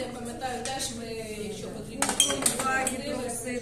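Laboratory glassware in a chemistry department storeroom clinks and knocks in a brief cluster of sharp, close taps over a low background hum, with speech in the room.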